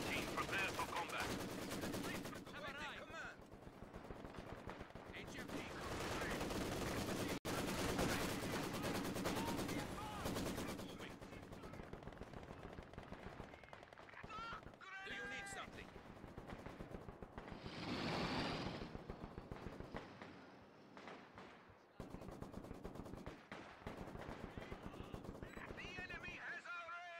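A heavy machine gun team fires in Company of Heroes 2. Long, dense bursts of rattling automatic fire mix with other gunshots and battle noise, and voices call out now and then.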